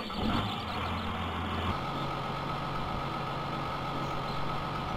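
A Case 180 tractor engine idles in Farming Simulator 2013 with a steady, loud, continuous rumble and a slight shift in tone early on, with no talking.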